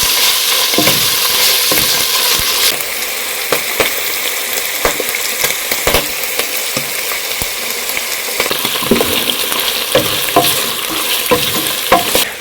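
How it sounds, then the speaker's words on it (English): Beef tripe frying with onions in a pot for a Kenyan matumbo wet fry, giving a loud, continuous close sizzle punctuated by frequent sharp stirring scrapes. "I'm going to add these tripes in and then I'll fry them together with my onions to golden brown."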